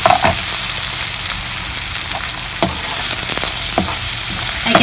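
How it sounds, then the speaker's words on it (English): Onions, chilies, curry leaves and coriander fry over medium heat for coconut rice, giving a loud, even sizzle dotted with occasional sharp crackles and pops, with no voices over it. "I added onions, chilies, curry leaves and coriander. Let it cook nicely on medium heat."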